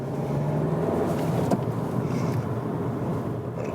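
A Seat Leon Cupra 300 hatchback with manual gearbox cruises on a motorway, giving a steady broad interior drone of engine, tyre and wind noise that holds an even level throughout, with no voices.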